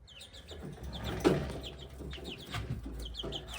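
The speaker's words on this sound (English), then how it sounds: "Those are my mini chicken" Mini chickens cluck steadily at close range, a run of soft repeated clucks and chirps with a few louder notes, no voices.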